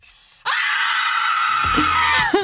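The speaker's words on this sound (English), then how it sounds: "I scream at the top of my lungs." A student screams at the top of her lungs, a loud sustained cry that starts abruptly after a brief quiet moment and holds for about two seconds before breaking off.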